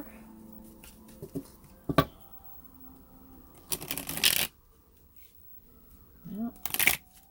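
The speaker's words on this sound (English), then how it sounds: "I've been shuffling and meditating on the cards already, so let me give it quick shuffle" A deck of tarot cards being shuffled during a reading, in a few separate bursts of riffling and sliding, close up and fairly loud against a quiet room.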